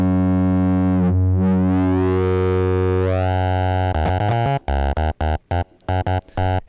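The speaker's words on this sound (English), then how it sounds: "that's kind of intense bass. That's one oscillator." Access Virus synthesizer bass from a single oscillator, loud and alone: a rich sustained buzzing tone sweeping upward, then breaking into choppy, gated rhythmic bursts with distortion.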